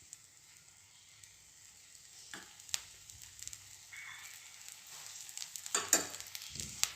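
Oil being spread across a hot pan, a faint, thin sizzle that builds gradually, with occasional scraping strokes and light clatter toward the end.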